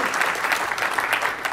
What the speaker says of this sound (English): you can clap more